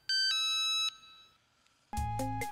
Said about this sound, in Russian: простите, звонят.